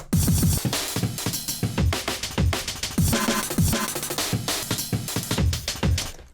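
Punchy drum breakbeat patterns sequenced in the Tidal live-coding software play in quick succession, one loop flowing into the next with crisp snares, kicks and hi-hats at a steady, loud groove.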